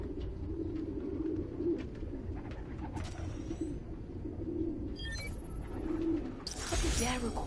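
Pigeons cooing in a park, soft repeated low coos close by over a background hum, with brief chirps and a sharp clatter near the end.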